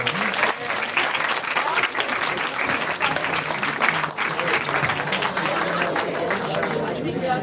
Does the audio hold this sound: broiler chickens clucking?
no